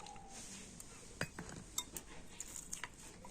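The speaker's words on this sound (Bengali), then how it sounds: "তো আবার আমি খুব ভালো করে মিশিয়ে নেব" A spoon clinks and scrapes against a bowl while semolina is mixed with water, with irregular close metallic taps and scraping strokes over faint background noise.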